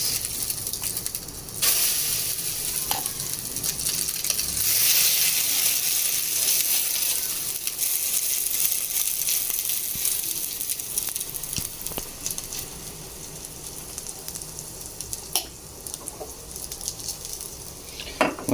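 Chicken keema batter sizzles and fries steadily in a pan, a loud continuous hiss with occasional clicks of a utensil, no one talking.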